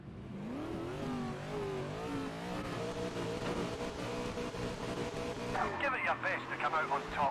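V8 supercar engines roar together at a race start in the ToCA Race Driver 3 game, rising and falling revs as the pack accelerates, loud and continuous with a sharp climb near the end.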